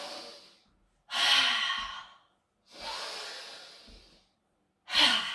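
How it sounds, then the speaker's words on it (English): Vigorous, deliberately exaggerated breathing in a breath-awareness exercise: three loud, close breaths, each a long airy exhale, separated by short silences. "Let's get into some vigorous breaths."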